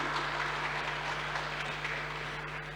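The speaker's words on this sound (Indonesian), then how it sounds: "Berikan tepuk tangan terlebih dahulu untuk kita semua." A seminar audience claps together, giving a steady wash of applause that sounds distant and moderately quiet over a low hum from the room's sound system, with no voices on top.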